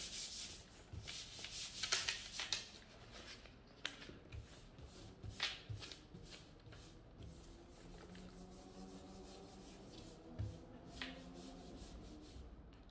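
A plastic sheet rubbed by hand to transfer a colour design, continuous close scratchy rubbing strokes in uneven bursts, fairly quiet, with a faint low hum underneath.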